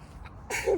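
A single sharp sneeze bursts out close by after a brief soft intake of breath, short and loud, heard alone in an otherwise quiet moment.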